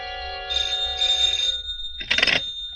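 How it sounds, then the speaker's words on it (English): A telephone rings in a 1950s radio crime drama, one long electronic trilling ring followed by a shorter burst after a brief pause, clear and close. "At 8, my phone rang."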